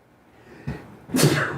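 A single sharp sneeze bursts out after a brief intake of breath, close and fairly loud against a quiet background.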